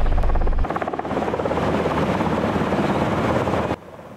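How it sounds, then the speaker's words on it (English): An Army National Guard military helicopter flies low over flooded farmland, its loud rotor chop pulsing steadily before cutting off abruptly near the end. "Helicopters dropped the bags, hoping to build up makeshift levees."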